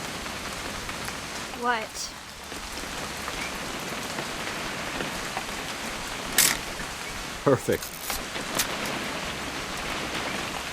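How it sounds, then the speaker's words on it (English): Steady rain falls during a hunting trip in the video game What Remains of Edith Finch, a continuous soft hiss running under brief spoken exchanges. "It's gonna rain the whole weekend,"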